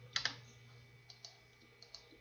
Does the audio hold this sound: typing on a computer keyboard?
yes